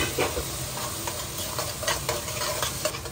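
Tomato paste sizzles and fries in a pan for egg curry while a spoon stirs it, steady crackling hiss broken by repeated scraping strokes, close and alone without talk.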